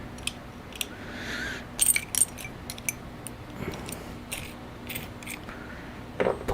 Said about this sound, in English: Little wrench, big wrench.